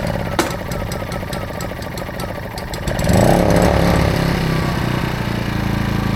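An AIVolt 1600-watt gas portable inverter generator, choke set to start, is cranked and then catches partway through, its engine rising in pitch before settling into a steady, close, moderately loud running drone.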